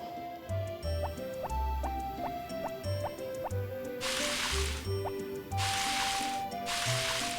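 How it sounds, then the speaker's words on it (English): In Harvest Moon: Back to Nature, a watering can sprinkles two planted crops: soft repeated drips and plops over a looping tune, then two longer splashy bursts of pouring water near the end. "So we finally grabbed the watering can and we're off to water those two crops that we planted"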